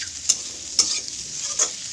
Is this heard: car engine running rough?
no